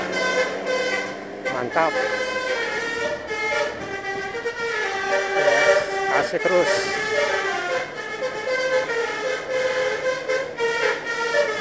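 A Miyor Holiday bus on the Jakarta–Payakumbuh route sounds its telolet horn, a bright multi-tone musical melody repeated continuously and loudly over engine rumble, while people talk and cheer nearby.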